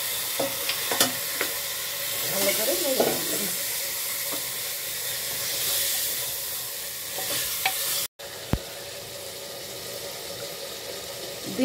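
Desi chicken with potatoes sizzles in spiced masala in a pressure cooker pot, a steady hissing fry with occasional clinks and stirring scrapes, briefly cut off near the end before the sizzle resumes.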